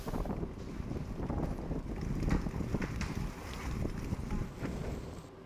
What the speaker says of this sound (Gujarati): ભારે ઉકળાટ વચ્ચે પવન અને કરા સાથે વરસાદ વરસ્યો.